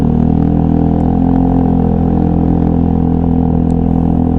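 A Vespa GTS 150 scooter rides off, its engine giving a steady, loud, close drone with a little rattle throughout, no voices over it.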